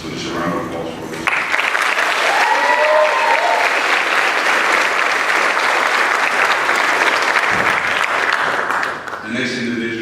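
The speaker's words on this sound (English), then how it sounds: "So just a round of applause for them." At a high school senior awards ceremony at Clay High School, an audience breaks into loud, sustained applause after a brief spoken line and keeps clapping for about eight seconds before a voice resumes.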